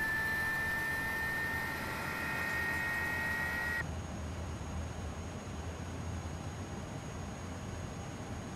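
Airbus A300-600 jet engines idle in a flight simulator game, a steady broadband rumble with a sustained high whine that cuts out partway, leaving a continuous lower roar alone.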